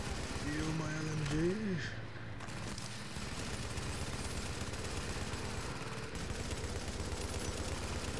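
An M249 light machine gun firing in the video game The Division: dense, continuous automatic fire rattling steadily throughout, with a brief electronic warble near the start.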